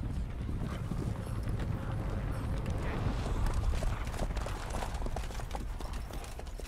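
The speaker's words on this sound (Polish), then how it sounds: "Nilfgaardzki koń bojowy." Hooves of a Nilfgaardian war horse clip-clop steadily in The Witcher 3 video game, a continuous dense trotting rhythm heard fairly close with a rough low-end rumble throughout.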